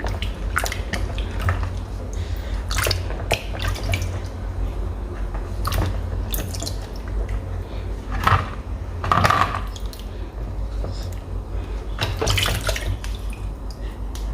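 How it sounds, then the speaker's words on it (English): Grapes being washed under running water while prepared for a homemade parfait, with irregular splashes and squishy rinsing bursts over a steady low hum, fairly close. "So I'm just removing the grapes from the stem and washing properly."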